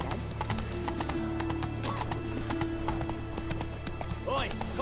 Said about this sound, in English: Giddy up. Ah! Not so fast, Roach. Run, Roach